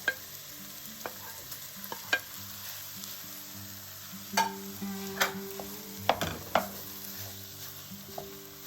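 Meat browns in a pan with steady low sizzling, broken by scattered sharp clinks and scrapes of stirring, moderately loud and close with no voices.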